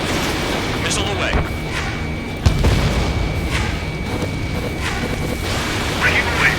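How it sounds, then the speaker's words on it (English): Missile launches and explosions in the combat flight game Ace Combat 7, a constant roar of jet and battle noise with one sharp thump midway and a few whooshing bursts, with radio voices talking over it. "Missile away."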